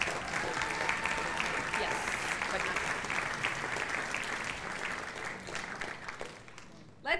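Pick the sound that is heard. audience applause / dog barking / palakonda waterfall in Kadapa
audience applause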